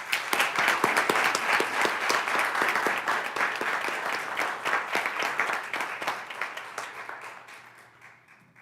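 Audience applause at a school board meeting, a dense, steady wash of many hands clapping that stays loud for several seconds and then gradually thins and fades toward the end.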